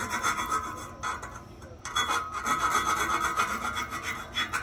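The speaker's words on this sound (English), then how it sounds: "you got to file down the edges to make it clean" A hand file rasps burrs off the cut edges of a steel axle-back exhaust pipe for a Mustang GT, producing close, continuous scraping strokes with one short pause before the rasping resumes; no talking.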